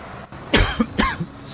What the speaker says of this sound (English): Of course, I'd get one of them kind of coughs like that in the middle of a contest